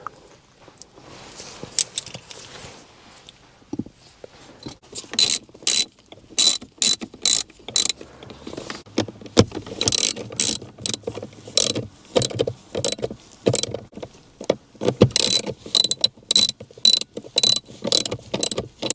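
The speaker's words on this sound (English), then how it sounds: "now I'm going to try to tighten down the T30 bolts" Ratchet ratcheting as T30 bolts are tightened on a BMW E60/E61 joystick gear shifter: close, loud bursts of rapid clicking, sparse and faint at first, then repeated steady strokes in quick succession with no talk.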